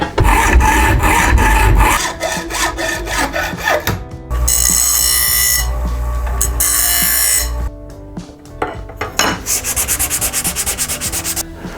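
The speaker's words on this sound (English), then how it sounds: "the first thing I need to do is cut this down to size" Loud, rapid back-and-forth rasping of a hand saw cutting a dash mount to size, in bursts with brief pauses, close and continuous throughout.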